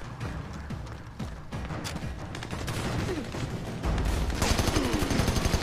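Gunfire in the video game Army of Two: The Devil's Cartel, rapid bursts of shots crackling over a dense battle soundscape, moderately loud and building toward the end.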